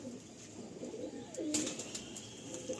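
Tikki golden-eye pigeons, a male and female pair, coo softly in a low rolling call close by over a steady background hum, with faint chirps around it.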